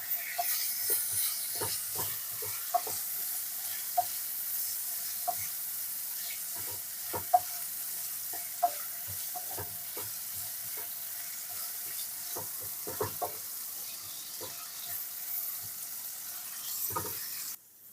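Potatoes fry in a pan with salt while a utensil stirs them, giving a steady sizzling hiss broken by frequent scraping clicks, close and moderate in level, with no voices.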